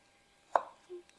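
A single sharp knife chop on garlic against a cutting board, close and clear in a quiet kitchen, followed by a faint soft thud.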